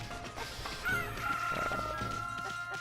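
A rooster crows and chickens cluck in the Okami HD video game, a sustained crow rising over busy game sounds and background music, moderately loud, with no talking.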